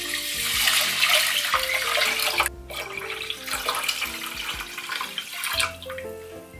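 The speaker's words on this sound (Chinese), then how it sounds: "现在来加水，我的水是米的8倍" Water pours steadily into a pot of washed rice for fish congee, a continuous splashing rush that runs loud and close, dips briefly, then keeps flowing with no talk.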